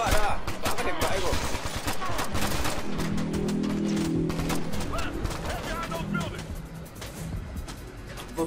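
Rapid bursts of game gunfire from Ghost Recon Future Soldier crackle through the whole stretch, overlapping shots in a dense fusillade with voices talking over the action.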